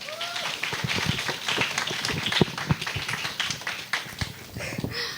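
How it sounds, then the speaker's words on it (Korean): Audience at a Korean church high school Sunday service claps steadily to welcome two young singers, a dense patter of many hands lasting several seconds, fairly close and even, tapering slightly near the end. "박수로 환영하겠습니다."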